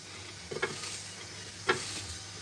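A spoon stirs chocolate cake batter in a bowl, giving two short scraping strokes about a second apart over a quiet, steady background.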